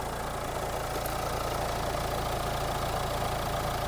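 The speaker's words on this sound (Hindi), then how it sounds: "तो अभी रेव कर रहे हैं हम गाड़ी को" A Mahindra XUV700 SUV engine, about a year old and under inspection, runs loudly and close with a steady, even drone and constant rumble, with no clear rise or fall in pitch.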